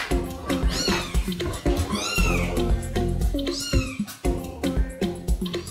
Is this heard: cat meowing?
yes